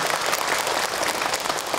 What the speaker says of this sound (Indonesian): Tepuk tangan untuk Kak Hilman.